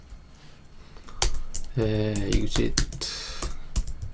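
Computer keyboard typing in bursts of quick clicks while writing Java code, with someone speaking over much of it.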